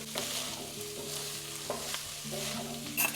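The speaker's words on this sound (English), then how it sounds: "my onions won't sizzle like this. You hear it?" Steady sizzling of onions frying in a pan, a continuous hiss with occasional stirring scrapes, close and moderately loud, no voices.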